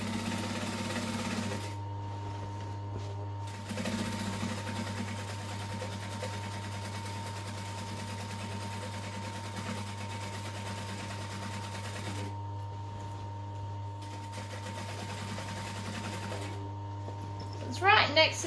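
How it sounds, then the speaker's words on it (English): A sewing machine runs a second seam beside the original stitch line on a Dallas Duffel bag, a steady mechanical whir with brief pauses between runs, close and clear, while a person talks over it. "sew a second seam next to that just as an added support"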